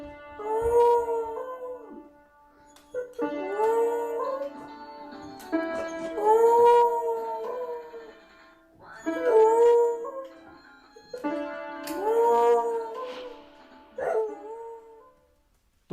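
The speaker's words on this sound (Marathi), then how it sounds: "या कुत्र्यानं पियानोवर चांगला सूरही लावल्याचं पाहायला मिळतंय" A dog howls along while a piano plays, giving long wavering, tonal howls in several drawn-out phrases with short pauses between them, loud and close.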